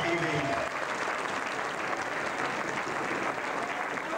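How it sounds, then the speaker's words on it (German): Enthusiastic applause from a gala audience at an All Saints' charity gala in Frankenau, a dense, sustained wash of clapping from a large crowd, with a voice fading out at the start. "Und dann möchte ich mit wirklich einem frenetischen Applaus begrüßen in Karl Kanic"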